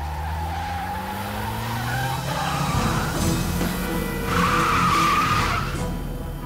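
Sports car tires skid and squeal in the video game Broken Sword 3, a loud, close screech with engine roar that swells into a second sharp squeal near the end, no voices.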